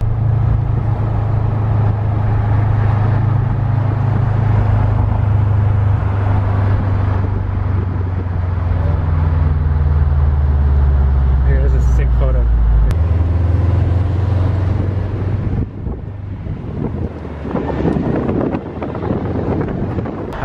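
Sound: wide body Subaru WRX on Toyo Proxes tires driving

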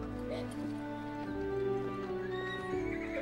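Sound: horse-drawn carriage, horse neighing and hooves

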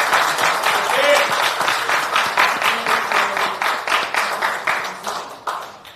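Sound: crowd applause at political rally

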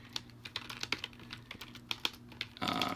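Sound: typing on a computer keyboard

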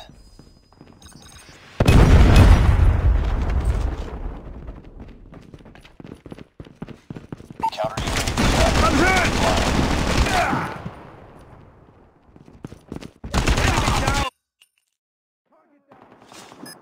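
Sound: Predator missile strike and gunfire in Call of Duty Mobile video game

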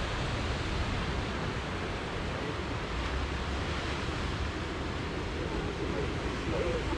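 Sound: SpaceX Falcon 9 rocket launch roar

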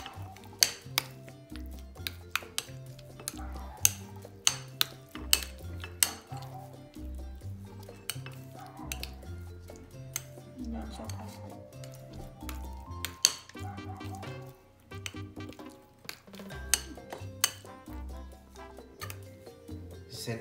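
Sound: stirring ube pandesal mixture until it thickens

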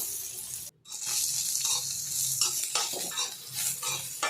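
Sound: frying dried red chillies on low-medium flame

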